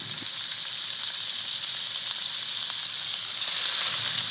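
Venison patties sizzle loudly and steadily in a hot pan, a close continuous hissing fry with faint crackles and no voices.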